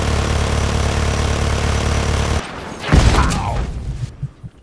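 Gunfire in the Just Cause 3 game: a loud, steady mechanical drone gives way to a burst of blasts and rattling shots aimed at a house, then fades into scattered crackles.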